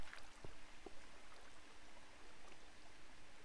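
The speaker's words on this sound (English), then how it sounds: "I was gonna say, wait a minute, I still hear water. That's that water up there" Faint, steady trickle of flowing water in Minecraft, a soft continuous wash with a few tiny drip-like blips near the start and no talk.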